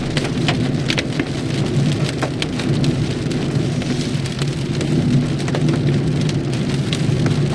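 Heavy rain drums steadily on a car during a drive through hilly country, a loud, dense patter over a low engine rumble, with no voices.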